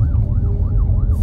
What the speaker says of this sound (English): There's an ambulance here, so we have to slow down.